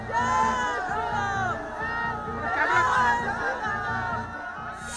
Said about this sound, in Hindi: बाबा बागेश्वर के कार्यक्रम के तीसरे दिन भी जबरदस्त भीड़ उमड़ी हुई है।